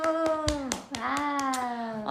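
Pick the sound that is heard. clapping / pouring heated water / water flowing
clapping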